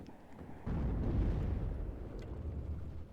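A heavy low boom from a shot in the Cold War strategy video game WARNO, starting abruptly and rumbling on for a couple of seconds, loud and alone without talk.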